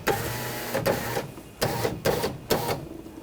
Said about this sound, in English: We're going to connect the window switch so we can lower the window